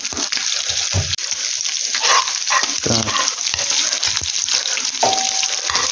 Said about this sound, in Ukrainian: М'ясо обжаруємо.